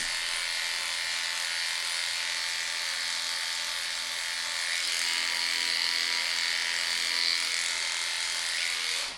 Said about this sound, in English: We're going to switch over to our 7F and shave under these armpits.